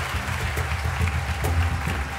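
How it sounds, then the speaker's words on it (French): A crowd claps steadily and densely throughout, a sustained wash of applause at moderate volume with no speech on top. "Est-ce que vous pouvez faire un maximum d'applaudissements, s'il vous plaît"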